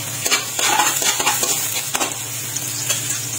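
Ginger, garlic and onion sizzle in a hot pan while a utensil stirs and scrapes against the metal, producing repeated clinks over a steady frying hiss close by.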